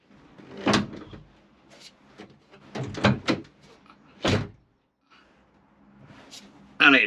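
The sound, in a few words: VW T5 campervan back door closing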